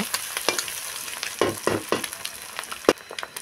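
Vegetables stir-fry in a pan for restaurant-style chicken fried rice: a steady sizzle, with a spatula scraping and tossing in irregular clattering strokes close by.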